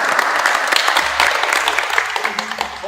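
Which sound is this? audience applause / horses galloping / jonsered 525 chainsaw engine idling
audience applause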